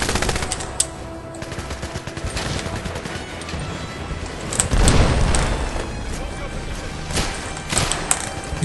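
Gunfire from the 007 Legends video game in the Goldfinger Fort Knox level: dense machine-gun bursts and scattered gunshots, with a heavier thump around the middle, all continuous and loud throughout.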